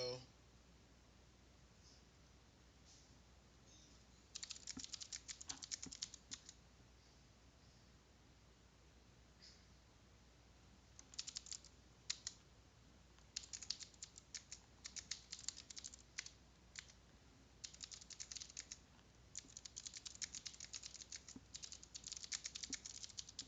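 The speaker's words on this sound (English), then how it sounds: "I'm typing." Typing on a computer keyboard heard close up, with soft key clicks arriving in irregular bursts separated by pauses in a quiet room.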